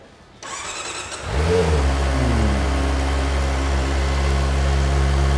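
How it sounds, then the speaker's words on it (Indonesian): A 2023 Kawasaki Ninja ZX-25R with a new exhaust starts and revs up, then holds a loud, steady growl with rising and falling pitch sweeps as the throttle is blipped. "Ya, kita belum dengerin suaranya nih. Dengan knalpot knalpot baru."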